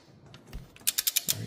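A torque wrench tightens a bolt on a Lamborghini Gallardo/Huracán 5.2L engine, with soft handling noises giving way to a quick run of four or five sharp, evenly spaced clicks.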